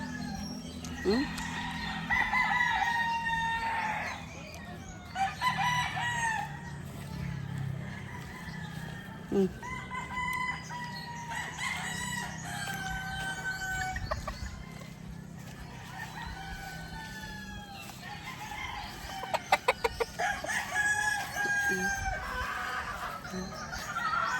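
Roosters crow repeatedly at a poultry farm in Zamboanga del Norte, Philippines, in long drawn-out calls, some near and some farther away, mixed with clucking and a low background hum.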